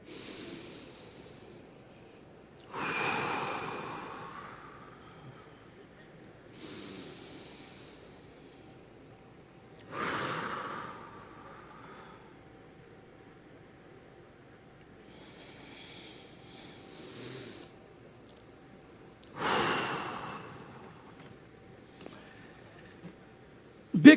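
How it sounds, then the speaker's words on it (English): An audience at an onstage talk takes deep breaths together, several long whooshing inhales and exhales in a row, separated by quiet pauses with faint room noise. "Take deep breaths, 3 deep breaths."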